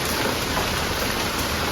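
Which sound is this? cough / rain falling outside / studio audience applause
rain falling outside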